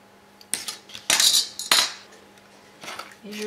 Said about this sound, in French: Et je vais couper une encoche.